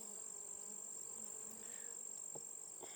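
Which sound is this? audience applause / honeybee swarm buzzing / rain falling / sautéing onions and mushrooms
honeybee swarm buzzing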